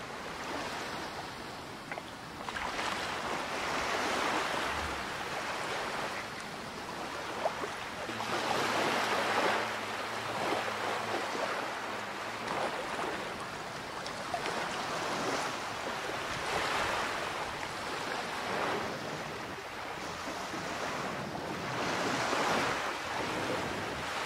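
Steady wind and rushing waves wash past continuously, with surges of water swelling and fading around a sailboat moving under sail on a calm sea.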